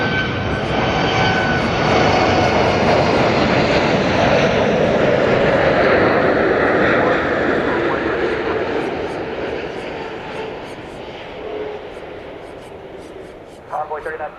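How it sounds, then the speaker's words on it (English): Cargolux cargo jet on approach to land at DFW Airport, a steady loud roaring engine drone sustained for many seconds and slowly easing off, with people talking over it. "We've got a large-ish jet coming in. This will be Cargo Lux."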